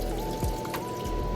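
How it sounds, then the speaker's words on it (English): Water is poured steadily into a cooking pot for a short moment, a continuous close trickle and splash with no talking. "Need to add water."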